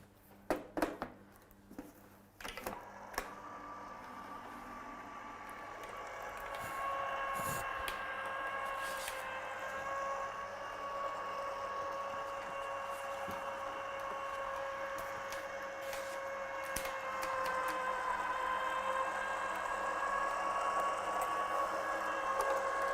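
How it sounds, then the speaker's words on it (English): Die cutting machine running a card through, a steady close mechanical whir with rising tonal hum after a few clicks and handling knocks at the start, continuing evenly to the end. "And I'll just run that through the die cutting machine."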